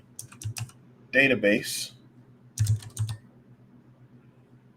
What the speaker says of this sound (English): we'll just type in create